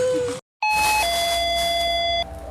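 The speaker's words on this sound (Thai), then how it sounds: "กดกระดิ่ง กด subscribe ให้ด้วยนะครับ กริ๊งกริ๊งกริ๊ง" A subscribe-style notification bell sound effect plays a bright electronic chime. A short tone is followed by a brief silence, then a clear two-note ding-dong that rings on with a sustained tail.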